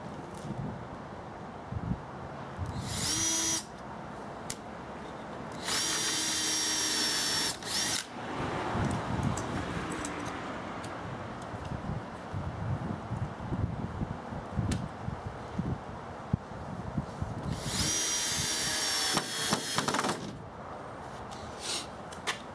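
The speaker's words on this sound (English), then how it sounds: "Again, I'm pre-drilling holes." A power drill pre-drills screw holes in wood for a DIY table build, with several short whining bursts between stretches of clattering and handling noise.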